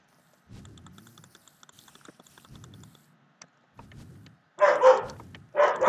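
A dog barking in a room, several short muffled barks spread through, plus keyboard clicking and a louder burst of noise near the end, with no talk.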